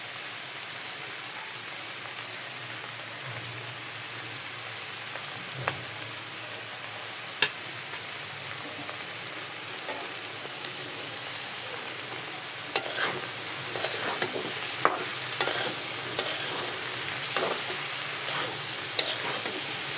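A vegetable bhaji with egg fries in a pan, its soft continuous sizzle broken by scraping stirs and clinks of the spatula that grow more frequent toward the end, with no talking.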